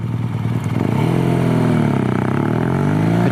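A BMW R nineT Racer motorcycle engine revs up from idle, its loud throbbing exhaust note rising in pitch and holding at higher RPM, close and alone with no talk.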